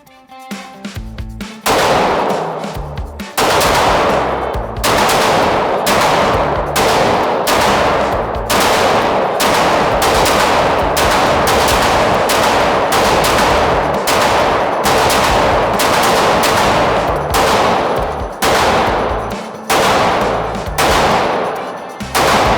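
Rapid gunfire at shooting range targets, a long run of loud, sharp, close shots in quick succession with brief pauses between bursts.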